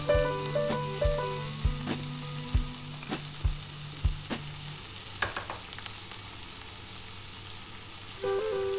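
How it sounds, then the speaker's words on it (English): Chopped onions fry in oil for butter chicken, a steady close sizzle with regular utensil knocks and stirring clatter through the first half, then a lighter continuous crackle. "using the same oil we need to add the other ingredients. The first ingredient that we need to add is the onions that we have chopped"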